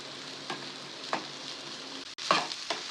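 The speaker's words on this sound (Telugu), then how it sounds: "ఒక టీ స్పూన్ నూనె వేసుకొని వేయించుకోవాలి బాగా" Spices fry in a teaspoon of oil in a pan, a steady close sizzle broken by a few sharp stirring scrapes, with no talking.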